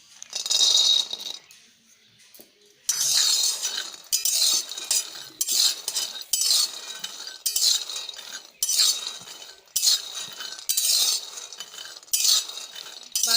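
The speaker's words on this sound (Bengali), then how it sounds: "বন্ধুরা, কড়াই গরম হয়ে গেছে, এবার কড়াইয়ের মধ্যে কাঁচা বাদামগুলো দিয়ে ভেজে নেব।" Raw peanuts fry in a wok while being stirred, a loud close rattling clatter of nuts against metal that comes in rhythmic sweeps, nearly continuous after a brief pause, with no talking.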